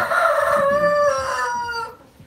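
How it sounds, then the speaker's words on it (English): A rooster crowing close by, one loud drawn-out cock-a-doodle-doo that fades out near the end, with faint clucking beneath. "These roosters are just so loud."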